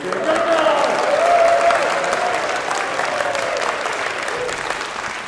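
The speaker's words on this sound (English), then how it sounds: "And give a round of applause for Paul" Steady applause from a crowd at an orchestra rehearsal fills the whole stretch, a dense wash of clapping that stays loud throughout, with some voices mixed in.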